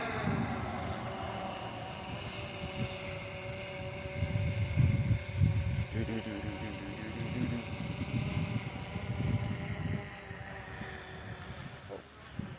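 A camera drone flies outside a classic car museum, giving a steady whine with a low rumbling hum throughout, holding close and fairly constant.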